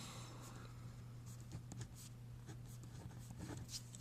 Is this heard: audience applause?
no